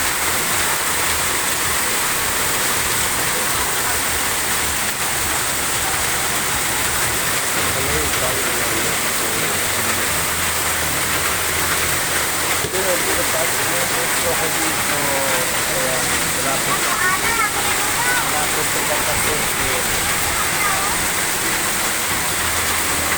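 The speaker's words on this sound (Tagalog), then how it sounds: "Sobrang baha agad." Heavy rain and rushing floodwater pour steadily as a street floods, a loud continuous broadband wash throughout, with talk faintly mixed in.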